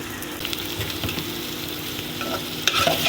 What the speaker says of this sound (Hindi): और ऑयल जब गर्म हो जाएगा तो मैं इसमें ये प्याज डाल दूँगी।